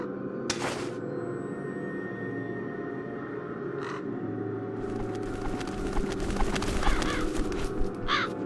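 Crows cawing in The Dark Eye: Chains of Satinav fantasy adventure game: a few harsh caws spaced out over a steady low ambient drone, with a rustling, crackling texture building toward the end.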